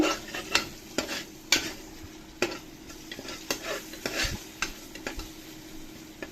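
Vegetables sautéing in a pan for veg biryani: a soft background sizzle broken by regular scraping stirs of a spoon against the pan, close by and fairly quiet, with no voices.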